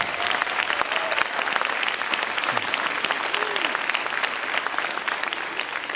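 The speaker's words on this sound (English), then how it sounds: "let's give them a round of applause, just a little quickly" Audience clapping loudly and steadily at a firefighter class graduation ceremony, a dense, even applause sustained throughout with faint voices mixed underneath.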